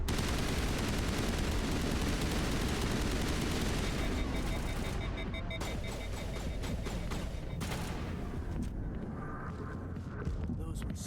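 Shotgun blasts and heavy gunfire in a Mass Effect firefight, a dense, continuous barrage of loud close shots with a voice talking over parts of it.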